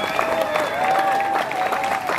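Applause from a crowd gathered for a mountain bike enduro race in Avignon-lès-Saint-Claude, honouring the volunteers, with steady, dense clapping lasting the whole stretch at fairly close range.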